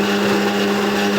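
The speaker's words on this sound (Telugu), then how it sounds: "దీన్ని ఇప్పుడు మిక్సీ చేద్దాం" A mixer grinder whirs at high speed blending an Oreo milkshake of ground paste, sugar and boiled, cooled milk, a loud close steady motor whine with a strong hum that cuts off at the end.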